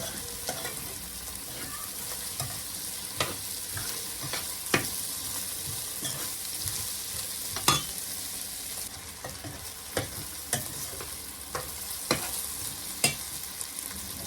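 Potatoes and meat roast in a pan for a Turkish meat and potato dish, a steady sizzle broken by scattered scrapes and knocks of a spoon stirring, close and fairly quiet with no voices.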